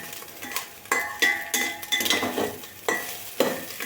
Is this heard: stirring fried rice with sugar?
yes